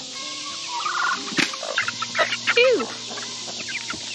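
Chickens cluck and a turkey gobbles in a backyard poultry yard, a few short bird calls popping up over a steady drone of loud cicadas, with a brief spoken remark nearby.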